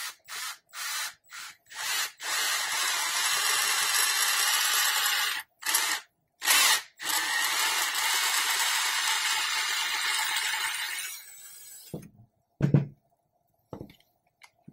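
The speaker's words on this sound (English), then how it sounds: "Drill a hole here." An electric drill bores a hole through a part of a 1/4-scale Narin Hellboy model, in several short bursts and then one long steady whine at close range, ending in a few handling knocks.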